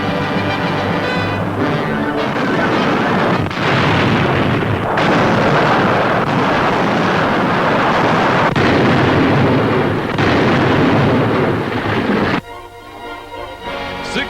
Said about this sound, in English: Across Lake Bizerte, U.S. artillery reduces the Nazi-held naval base.